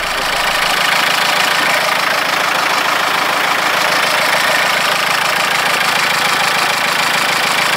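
A Talbot Express van engine idles nearby while warming up after a radiator repair, a loud, steady mechanical rumble with a faint knocking texture that holds constant throughout.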